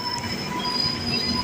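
A Gitanjali Express train at Badnera junction gives a steady, close rail rumble with a thin metallic wheel squeal running through it. The sound continues without a break and no voices are heard.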